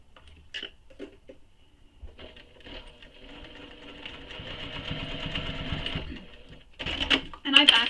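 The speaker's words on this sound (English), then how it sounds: "If you're worried about hitting the pin, you can hand crank." A sewing machine on a mini messenger bag is cranked by hand past a pin, giving slow, uneven mechanical clicks and a soft whir that build up and grow louder toward the end.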